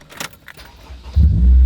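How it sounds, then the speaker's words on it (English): Keys jangle close by in a few quick rattles, then a Honda two-door sports car engine cranks and catches, settling into a loud, steady idle without any talk. "Starts right up because it's a Honda."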